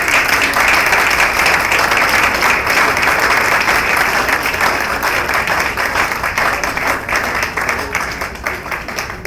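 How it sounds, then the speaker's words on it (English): A large audience applauds at a religious gathering, a dense, sustained wash of clapping that stays loud throughout and tapers slightly toward the end. "Let's give him a round of applause."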